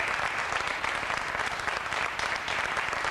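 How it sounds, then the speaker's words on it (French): A French game-show studio audience in 1986 gives quiz contestant Jean-Claude a sustained round of dense, steady applause that fills the room at an even level and carries no talk. "Je vais vous demander de l'applaudir encore,"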